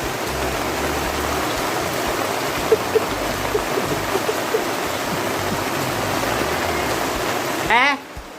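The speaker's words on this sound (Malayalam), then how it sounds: "ഇപ്പോൾ ഭയങ്കര മഴയാണ് കേട്ടോ രക്ഷയില്ലാത്ത മഴ" Heavy rain pours down in a steady, dense hiss that continues unbroken for several seconds, then cuts off sharply near the end, with a voice heard faintly at times.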